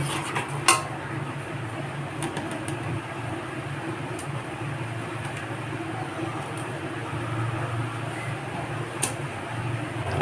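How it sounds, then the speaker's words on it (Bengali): Fried pakoras being stirred into a Veg Manchurian gravy in a pan: a continuous low bubbling sizzle with a few light utensil clinks against the pan, near and moderately loud. "এখন গ্রেভিটার সাথে ভালো করে মিক্স করে নেব"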